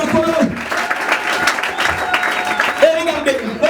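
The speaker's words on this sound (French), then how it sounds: "Acclamons très fort le Seigneur Jésus." A church congregation claps and cheers for Jesus, with steady applause running the whole time under a preacher's loud amplified voice and some shouted exclamations.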